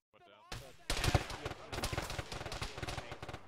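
Heavy gunfire in a military video game: a sudden loud burst of rapid, dense shots after a brief quieter moment, continuing as sustained automatic fire with echoing crackle.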